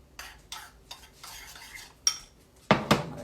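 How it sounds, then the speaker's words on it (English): A utensil stirs a Parmesan cheese mixture in a bowl, producing soft scraping strokes and several sharper clinks against the bowl, close and fairly quiet. "I'm just going to kind of stir that all together."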